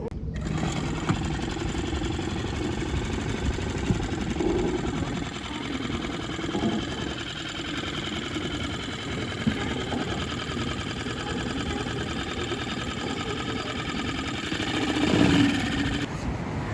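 A sailboat's outboard motor runs steadily with a smoky burning fault, giving a continuous buzzing drone with slight rhythmic chatter, moderately loud and unbroken throughout.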